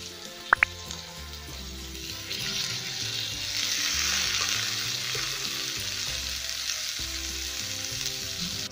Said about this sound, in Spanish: sin dejar derretir la mantequilla voy a agregar la mazorca